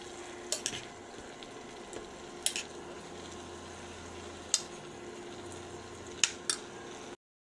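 Ampalaya and egg stirred in a frying pan with oyster sauce and fermented black beans, a steady close sizzle broken by a few sharp utensil scrapes and clinks against the pan, with no talking.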